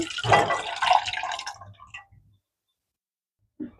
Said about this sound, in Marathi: बॉईल केलेली डाळ आपण ह्याच्यात